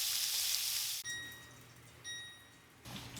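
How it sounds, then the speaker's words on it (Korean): Thinly sliced sausages fry in a pan with a bright, steady hiss of sizzling oil, loudest at first, then dropping lower with brief tonal clinks before the sizzle swells again. "소세지는 얇게 썰었으니까 양쪽에서 기름이 나올 정도로만 이렇게 구워주시면 되고요"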